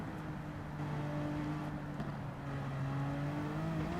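A race car engine in a driving video game drones steadily and loudly, its pitch climbing slightly toward the end with no one talking.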